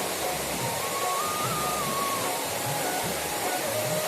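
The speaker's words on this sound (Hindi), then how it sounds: "आप देख सकते हैं इतना प्यारा ऊपर से झरना आता हुआ" A waterfall pours down into the Mandakini river at Kedarnath, a loud steady rushing roar that fills the whole stretch, with a faint high tone running over it.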